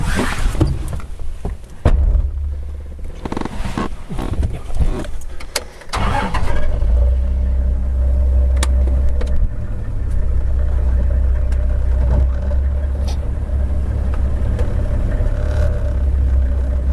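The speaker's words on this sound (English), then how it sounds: "Let me just drive a little forward so that I can pick up the shepherd tree leaves" A car in Botswana starts up and then rolls forward with a steady, loud low engine rumble, after some rustling and knocks at the start, with no talking.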